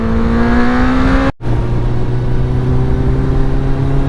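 Car fitted with road-legal homologated exhausts changing down through the gears at about 80 km/h, a loud continuous engine drone whose pitch drops after a brief cut in sound as the shift happens.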